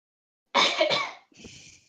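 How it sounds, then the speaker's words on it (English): A single close, harsh cough, followed by a shorter, breathy throat-clearing sound, then silence. "I heard a cough, and it wasn't from one of my people"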